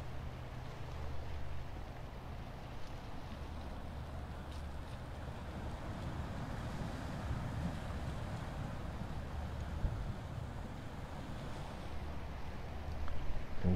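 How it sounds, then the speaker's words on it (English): Ocean waves wash in a steady, continuous rush with wind noise over a low rumble. The sound stays even throughout and swells slightly at the end, with no talking. "the sound of the waves"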